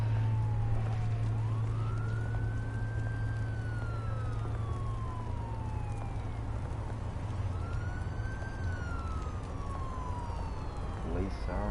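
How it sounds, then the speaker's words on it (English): Police sirens wail in the Telltale Batman video game, two rising-and-falling sweeps over a steady low engine rumble, loud and continuous with no speech. "Police sirens going off."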